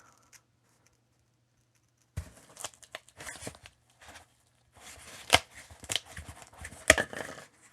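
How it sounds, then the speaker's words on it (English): A blade cutting through material in repeated passes gives scattered close scraping and crunching strokes with short gaps between, starting after a quiet opening. "I'll just do multiple passes and cut it all the way through."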